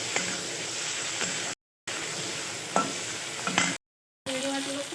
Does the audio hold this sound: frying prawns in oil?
yes